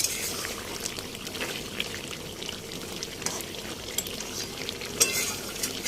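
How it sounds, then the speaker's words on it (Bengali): Chicken gravy with potatoes sautés in a pan with a dense, even sizzle and bubbling, broken by occasional soft stirring scrapes, heard up close with no speech. "এখন এই আলুটা দিয়ে খানিকক্ষণ কষবো আরও।"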